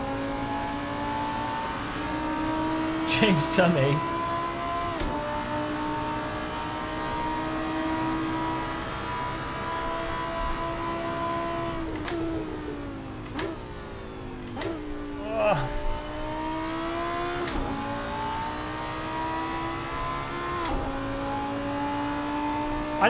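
A GT-style race car engine in a racing video game holds long sustained revs with sharp gear-shift drops and climbs, loud and steady, with a brief spoken voice over it.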